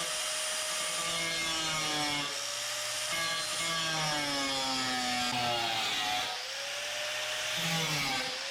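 A power tool whines loudly and continuously while cutting out a part for a custom intake on an 88 Mazda B2200, pitch sliding up and down as the load changes, close and alone.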